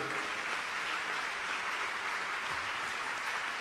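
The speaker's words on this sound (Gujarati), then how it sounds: "બધાને તાળીઓથી વધાવી લો" An audience at a religious scripture-reading gathering claps together in sustained, even applause that fills the whole short stretch without pause or voices on top.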